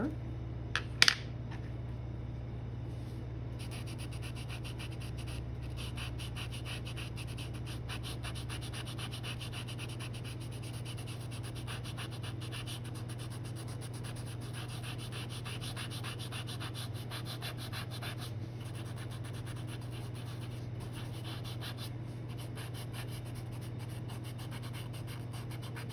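Soft, steady rubbing and scraping of a blending stump smoothing charcoal pencil on paper, a close continuous friction sound with a small knock near the start.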